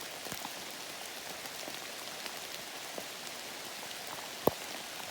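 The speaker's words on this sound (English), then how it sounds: "It's a rainy day." Rain falls steadily on a rainy day along the Appalachian Trail between the Nantahala Outdoor Center and Fontana Dam, a soft, even hiss of drops with an occasional louder tap nearby.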